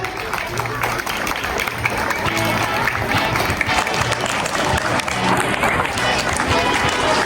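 Ceremony crowd applauding students called to the stage at a school felicitation event, steady dense clapping filling the hall loudly throughout, with cheering and voices mixed in underneath.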